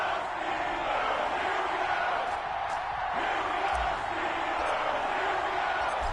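Football stadium crowd in the Madden 21 video game roars continuously, a dense, steady wall of cheering and shouting before a Washington versus Pittsburgh Steelers matchup.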